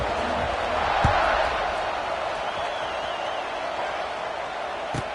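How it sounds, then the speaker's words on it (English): A stadium crowd at a football game keeps up a broad, steady buzz after a score, with a few sharp thumps standing out from the constant roar. "this crowd is buzzing after that last score"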